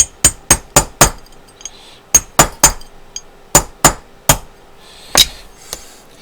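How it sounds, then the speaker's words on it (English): Sharp metallic taps seat the extractor into a Baby Browning .25 pistol, struck in quick bursts of three or four close, crisp knocks separated by short pauses, about a dozen taps in all, with no talk. "you just go ahead and give it a couple more taps"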